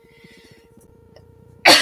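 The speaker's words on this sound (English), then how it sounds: "I'm getting over being sick and I cough a lot" A single sharp, loud cough bursts out at the very end after a quiet, near-silent stretch with faint background hum.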